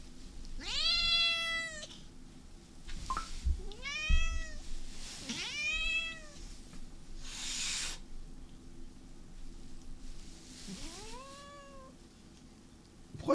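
A grumpy house cat meows repeatedly up close, four long complaining meows spread out with pauses between them in an indoor room.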